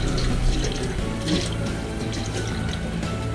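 Water runs steadily from a tap into a sink, a continuous splashing hiss that holds fairly even throughout, close by with no talking.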